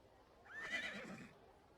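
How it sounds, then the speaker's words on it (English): A horse that was pulling a carriage whinnies loudly as it breaks free, a single rising-and-falling neigh lasting about a second, heard clearly over a faint background. "The horse that was pulling the carriage pulls itself free, and you hear it sort of neighing loudly as it begins to charge past you."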